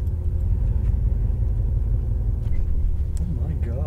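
Chevrolet Corvette Z06 Stingray engine rumbles loudly with a deep, steady low-end drone as the car begins pulling forward, close and continuous, with people talking over it.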